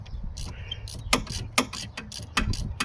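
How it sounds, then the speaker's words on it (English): A ratchet wrench loosens a 14mm bolt on the alternator of a 2015 Kia Soul GDI engine, producing close, sharp metallic clicks in uneven bursts over a low background rumble. "I decided to use a wrench key with the ratchet to loosen that 14mm bolt on the bottom."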